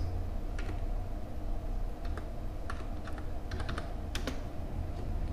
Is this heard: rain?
no